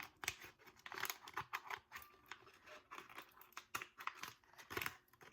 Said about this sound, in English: you're going to use your scissors to cut open the hole